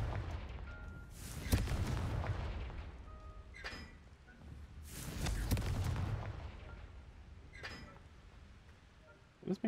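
Confringo blasting spells explode in the Hogwarts Legacy video game, two heavy booming blasts with rumbling tails a few seconds apart, followed by smaller cracks, loud against quiet background.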